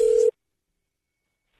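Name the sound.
telephone line tone at start of prank phone call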